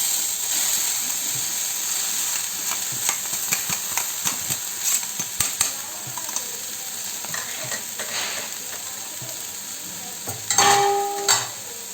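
Chana dal stirred and fried in a kadhai, giving a steady close sizzle with repeated scraping stirs and clatter, and a brief louder burst near the end, with no voices.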